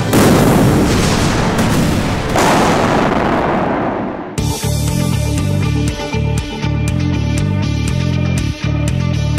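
Army engineers detonate explosive charges to demolish a bridge, producing a massive roaring blast that rumbles and decays over several seconds, followed by a loud, steady, droning engine or machinery noise.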